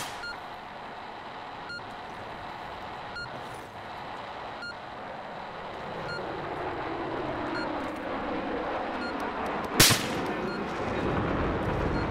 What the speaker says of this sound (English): Alright, I've got a sniper shooting at me somewhere.